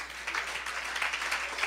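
A church congregation applauds during a communion service sermon, a brief, even burst of many hands clapping in a reverberant room.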